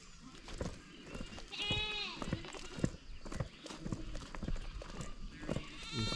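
Young goats come in from a brushy pasture, several high wavering bleats overlapping at close to middle distance among rustling and faint hoof sounds, with some quiet talk underneath.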